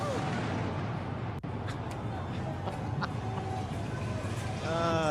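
Booming fireworks pop and crackle repeatedly, close and loud, with voices talking underneath and a rising whistle near the end.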